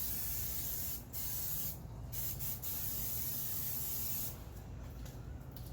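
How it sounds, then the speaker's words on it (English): Vegetable oil spray hisses onto hot outdoor grill grates in several short bursts separated by brief pauses, close and steady, with no talking. "Just a little oil spray, a little vegetable oil spray."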